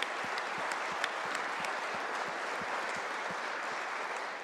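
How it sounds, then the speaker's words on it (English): Applause rings through a state House of Delegates chamber during a floor session, a steady, fairly soft wash of many hands clapping that holds evenly for several seconds with no talk over it. "So if the body would give them a big round of applause"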